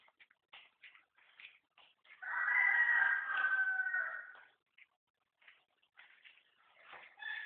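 A rooster crows in one drawn-out, fairly close call amid scattered clucks and chatter from chickens.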